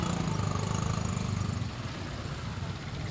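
Motorcycle engines rumble and idle at a busy fish port market in Malabon, a steady, loud, close mechanical drone with a slightly pulsing throb, no clear speech on top.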